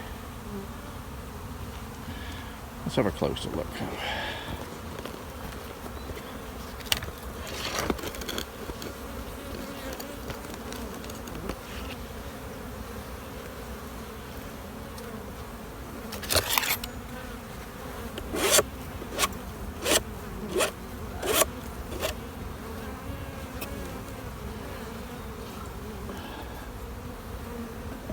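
Honeybees buzz in a continuous hum close by in an open hive, with occasional sharp scraping and knocking sounds breaking through, and a voice speaking briefly.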